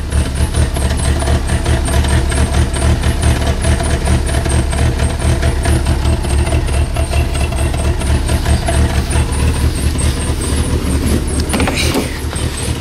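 A 1985 Dodge Aries idles just after a cold start, its engine running as a steady, loud low rumble that stays constant throughout.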